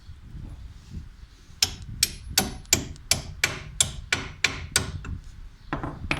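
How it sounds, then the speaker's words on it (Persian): Hammer blows strike the bolt on a Peugeot 206/207 wheel hub, about a dozen sharp metallic hits in a steady rhythm, close and loud, starting after a brief quieter lead-in. "بعد ضربه میزنیم روی خود پیچ"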